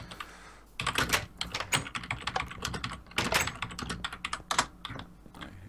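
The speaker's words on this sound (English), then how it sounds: "You got your noisy keyboard today." A noisy computer keyboard clattering under rapid typing, dense bursts of sharp key clicks close to the microphone with brief pauses between runs, and no talking.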